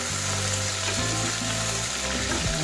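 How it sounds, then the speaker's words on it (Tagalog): Garlic, onion and plenty of tomatoes sautéing together in a hot pan, a steady, close, continuous sizzle with occasional stirring. "Gisahin lang natin siya."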